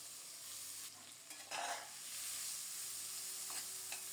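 Onion hitting a black cumin and green chilli tempering in hot oil, a soft sizzle with a brief louder burst and a few scrapes of stirring, close but quiet, with no talking.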